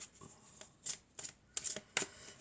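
A tarot card being drawn from a deck: soft papery slides and flicks come in several short bursts, close and quiet, with no talking.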